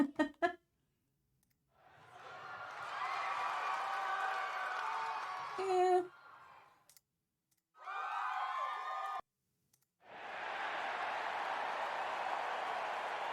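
A crowd cheering sound effect from a library is previewed in short bursts: loud, dense cheering and whooping that starts and stops abruptly several times, separated by silences and brief clicks.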